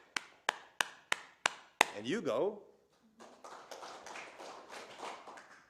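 Six sharp, evenly spaced hand claps ring out as a rhythm at a talk, followed by a short spoken phrase, then a crowd claps the pattern back in a looser, denser spatter of claps.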